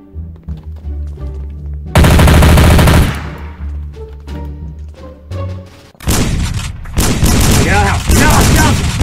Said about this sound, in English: Grab the gun and shoot him